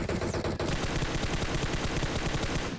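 A 7.62 rifle fires in PUBG Mobile in a nonstop rapid burst of loud, dense gunfire that lasts the whole moment, with no talking over it.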